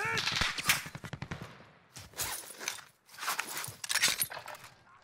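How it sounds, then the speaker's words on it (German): Gunfire in the video game Gray Zone Warfare: bursts of sharp shots crackle in quick clusters, some near and some more distant, with footsteps and faint voices mixed in. "Ey, da schießt jemand auf uns."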